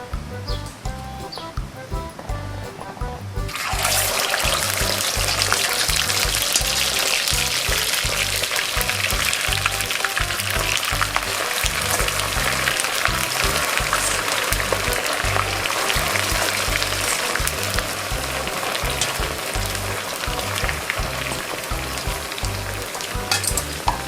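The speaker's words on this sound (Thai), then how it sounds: "เราจะใส่หมูลงไปนะคะใช้ไฟกลางนะคะในการทอดนะคะ" Pork belly drops into hot coconut oil over medium heat for a keto dish. After a few quiet seconds it bursts into loud, dense, steady sizzling and spattering that carries on without a break.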